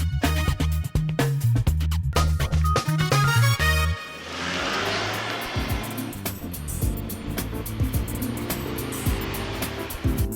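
A Honda Brio hatchback with a 4.5-metre turning circle makes a tight turn. Engine and tyre noise run continuously under loud backing music, with no voices.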